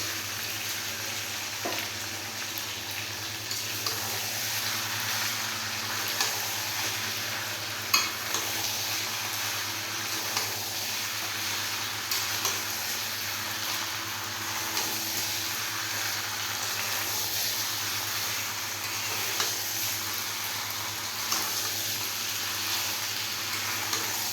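Country chicken curry sizzles steadily in hot oil while fried potatoes are stirred through it, a loud continuous frying hiss with scraping stir sounds and a few knocks, close up.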